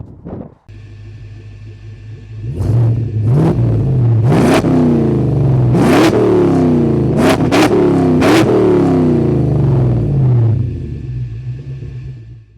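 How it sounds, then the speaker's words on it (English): A converted military Land Rover Defender 90 with a GM 5.3 L83 V8 petrol engine and stainless steel exhaust from the manifolds back revs up from idle in a series of sharp, deep blips, loud and close, before settling back. "The exhaust is rather special. It's stainless steel from the manifolds back, and it sounds fantastic."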